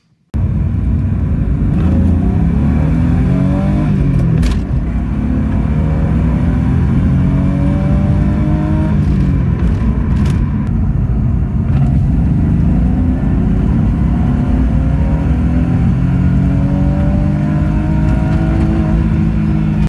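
A BMW E36 with a manual gearbox pulls hard through the gears, its engine note climbing, dropping at each shift and climbing again, loud and close with a steady road rumble underneath, no talking.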